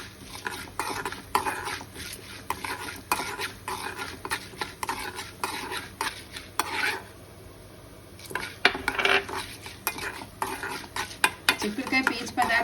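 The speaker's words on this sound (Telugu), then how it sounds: "ఎండుమిర్చి త్వరగానే వేగిపోతుంది." Dried red chillies frying in oil with coriander and cumin seeds, sharp crackling bursts and frequent metal spoon stirs against the pan, close and fairly loud without speech.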